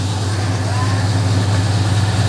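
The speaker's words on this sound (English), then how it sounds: "High idling. Granted, it's still warming up." A 1968 Chevrolet C-10 pickup engine idling high while still warming up gives a steady, close, low droning hum that holds at an even level throughout.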